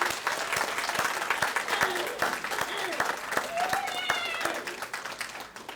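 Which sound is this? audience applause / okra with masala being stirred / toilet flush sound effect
audience applause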